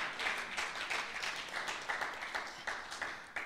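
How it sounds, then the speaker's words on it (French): A church congregation at an evening service claps for the Lord in steady rhythmic unison, a fairly faint crowd of hands beating together without pause. "Est-ce qu'on peut acclamer ce Seigneur et prendre place?"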